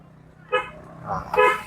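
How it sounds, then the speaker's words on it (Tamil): Two short car horn toots, a brief one and then a slightly longer one, over low engine rumble. "ஹார்ன் அடிங்க"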